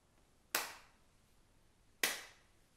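Two sharp single hand claps from a clapping game, well spaced and crisp, each with a short room decay, close by and alone in otherwise quiet surroundings.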